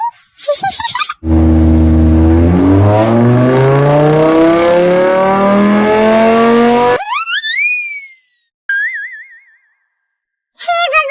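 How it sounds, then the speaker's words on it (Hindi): A cartoonish car sound effect: an engine starts and a loud, rising drone revs for several seconds as the car drives off, followed by a few bright sliding whistle-like tones and short bursts. "कार स्टार्ट कर दी"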